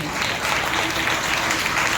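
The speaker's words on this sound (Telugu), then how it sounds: "బిగ్గరగా చప్పట్లు కొట్టి ప్రభువుని భయపరచండి" A church congregation at a Sunday worship service claps loudly together, a dense, steady roar of applause filling the room throughout.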